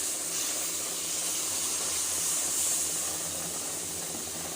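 Warm milk is poured into roasted besan flour and sugar for besan laddu, producing a steady, soft, close hiss that continues without talking.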